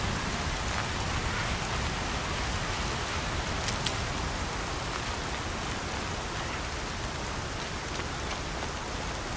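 Steady rain falls in Horizon Zero Dawn, a dense even hiss of drops on surfaces that holds at the same loudness throughout, with no voices.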